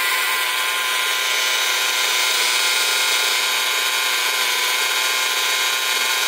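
A power drill bores a hole through a small heart-shaped keychain, giving a loud, continuous high whine that holds steady and close without breaks.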